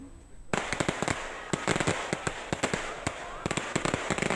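Rapid, irregular bursts of firecrackers popping and cracking, many sharp loud bangs in quick succession after a brief quiet start.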